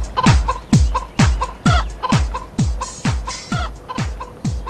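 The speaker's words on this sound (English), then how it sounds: "I'm gonna catch a chicken." Chickens clucking in rapid, repeated bursts, about ten loud calls over a few seconds, close by with no talking.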